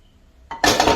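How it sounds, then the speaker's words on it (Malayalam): A pan set down on a stove while cooking squid fry: a metallic knock, then a louder clattering clank, close by with no voices. "ഒരു ചട്ടി അടുപ്പത്ത് വെച്ച് ഇനി ഇതിൽ"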